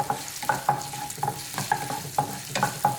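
Finely chopped ginger fries in hot oil, stirred with a utensil that scrapes the pan in repeated rhythmic strokes over a continuous close sizzle, with no talking.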